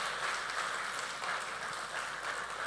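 An audience at a film pre-release event for Razakar claps in a dense, steady burst of applause that carries on without pause.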